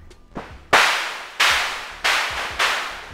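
A synthesized digital 808-style cymbal from the Studio One Mai Tai synth sounds in a few bright noisy hits, each with a sharp attack and a short decaying hiss. They are spaced roughly evenly and loud, with no voices.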